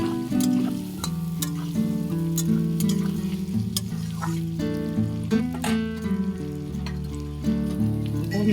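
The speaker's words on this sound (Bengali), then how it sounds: "সঙ্গে সঙ্গে আমার পেঁয়াজটাও ভাজা হয়ে যাবে।" Potatoes and onion fry in oil with a continuous soft sizzle, partly covered by steady background music playing throughout.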